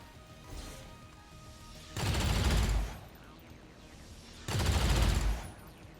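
Two loud bursts of rapid automatic gunfire in XCOM 2 (Long War of the Chosen), each about a second long and separated by a few quieter seconds of game ambience.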